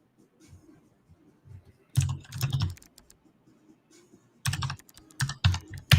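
Someone types on a computer keyboard in two brisk bursts of rapid clicking keystrokes, close and distinct, separated by a quieter pause with faint low background sounds.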